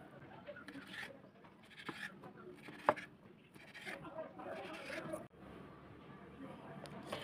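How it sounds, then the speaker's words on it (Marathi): A knife slices boiled potato into thick pieces for a breakfast snack, giving soft, faint chopping taps at an irregular pace while a person talks over it. "आता याचे असे काप करून घेऊया. असे एवढे या साईजमध्ये काप बनवून घ्यायचे."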